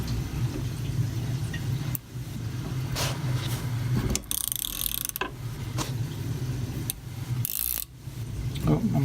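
3/8 studs being tightened on the motor of a Walker Turner drill press under restoration: intermittent close metallic clicks and ratcheting bursts over a low mechanical hum, separated by short pauses.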